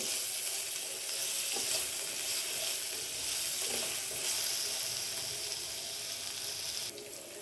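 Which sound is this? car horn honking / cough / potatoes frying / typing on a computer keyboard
potatoes frying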